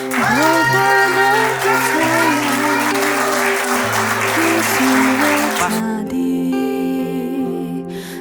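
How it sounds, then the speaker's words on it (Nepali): A crowd claps at a Christian wedding ceremony in Nepal, loud and sustained over background music, easing slightly toward the end. "सबैले ताली बजाउनु।"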